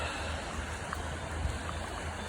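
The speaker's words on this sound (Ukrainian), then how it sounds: "Така тече річечка" A small river flowing full of water, a steady broadband rush and gurgle close by that carries on evenly throughout with no voices.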